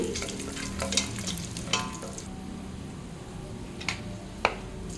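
Whole spices and cashews fry in hot oil for a spiced paneer biryani, giving a steady close sizzle with occasional sharp clinks of a spoon stirring them around the pan.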